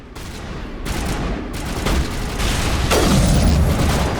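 Gunfire in the Mass Effect 1 Legendary Edition video game: loud, dense bursts of shots and booming impacts roll on continuously and build in intensity.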